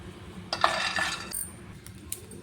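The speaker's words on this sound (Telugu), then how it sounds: "ముందుగా స్టవ్ మీద ఒక పెనం పెట్టుకొని అందులో కొన్ని వేరుశనగ గింజలు వేసి వేయించుకోవాలి" Peanuts are tipped into a pan on the stove for roasting, a short burst of light rattling clinks, then quiet, and one more small tick near the end.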